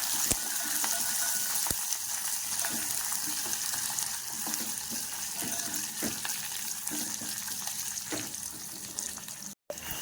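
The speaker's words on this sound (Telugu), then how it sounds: "అలానే ఉల్లిపాయ ముక్కలు పచ్చిమిరపప్పు కూడా వేసుకుని కొద్దిగా కరివేపాకు కూడా వేసుకోవాలి వేగనివ్వండి" Onion pieces, green chillies and curry leaves frying in a pan of oil, a steady close hiss and crackle with occasional sharp pops, and no talking.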